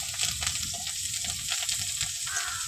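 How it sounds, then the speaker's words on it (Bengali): Onion and slit green chili fry in hot oil with five-spice, a steady close sizzle with crackling bursts and occasional stirring scrapes throughout. "5 ফোড়ন, পেঁয়াজ কুচি আর কাঁচা লঙ্কা চেরা। ভালো করে একটু ভেজে নেব।"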